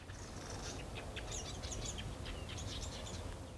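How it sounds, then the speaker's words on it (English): High, squeaky bird song in short chirping phrases, repeated over a steady low rumble of background noise; no voices. "You hear that squeaky little thing? The most complex bird song there is."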